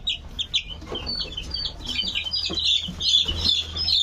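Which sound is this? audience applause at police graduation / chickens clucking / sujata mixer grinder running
chickens clucking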